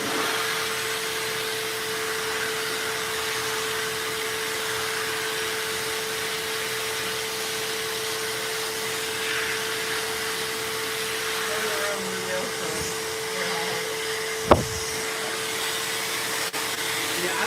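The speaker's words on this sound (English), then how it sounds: "Now this is a suck blow version of a shop vac." A suck-blow shop vac used to clean PC parts runs continuously with a loud, steady whooshing roar and a constant whine, broken by one sharp knock late in the run.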